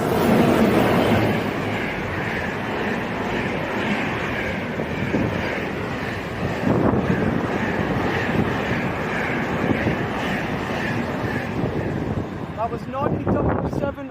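A freight train hauled by Class 90 locomotives passes on the West Coast Main Line at Rugeley Trent Valley, a loud steady rumble of wagons with wind buffeting the microphone throughout.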